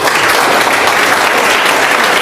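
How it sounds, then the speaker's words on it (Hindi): An audience gives loud, dense applause, close and sustained without break for the whole stretch, with no talk over it. "एक बार जोरदार ताली बजा दो।"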